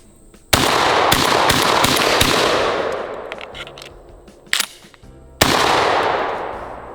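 A Benelli M4 semi-automatic shotgun firing buckshot and slugs: a quick burst of several loud, close blasts, then a pause with ringing decay, and two more single booms, each followed by a long reverberant tail.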